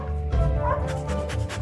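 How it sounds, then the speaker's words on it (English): A dog jumps about and barks in a few short, close yips and whimpers over a steady low background hum. "it's just jumping around, wagging its long tail, barking, and sticking its tongue out"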